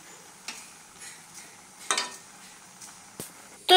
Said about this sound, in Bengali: তো এটা আমি নেড়ে চেড়ে ঢাকা দিয়ে দিলাম।